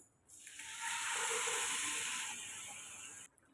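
Masala sizzles steadily in a pan over a low flame, a soft continuous hiss that swells after a moment and then cuts off abruptly.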